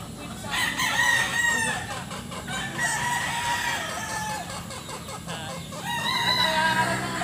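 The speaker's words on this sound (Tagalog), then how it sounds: "marami rin mga manok dito" Chickens and roosters on a Philippine farm crow and cluck continuously, several birds calling at once, some near and some farther off, in an open outdoor setting.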